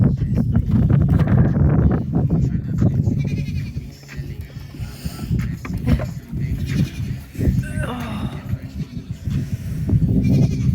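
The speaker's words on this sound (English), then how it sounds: "All of our goats are happy to be out here with us. Here they come." Goats bleating repeatedly over a dense, loud outdoor background, with several animals calling close by throughout.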